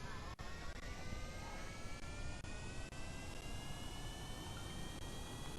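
A jet aircraft engine in Kerbal Space Program runs at full throttle, a steady, dense roar with rising whine tones and a few brief clicks, continuous throughout.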